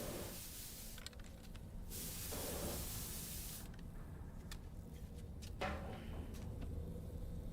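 Hairspray spraying in the video game Death Stranding 2: several soft hissing bursts of an aerosol can, each lasting about a second, with faint clicks and taps between them, quiet and close.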